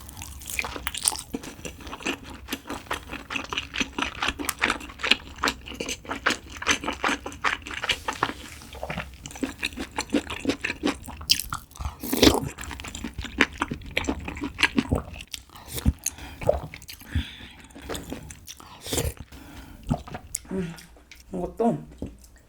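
Crunchy biting and chewing of tteokgalbi, Korean grilled meat patties, served with bibimbap, snail doenjang stew and soju; close-up, irregular wet crunches and smacks continue steadily throughout with no talking.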